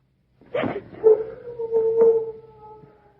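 A dog lets out a rising yelp that settles into a long, steady howl, sustained and fairly close, fading gradually toward the end with no talk over it.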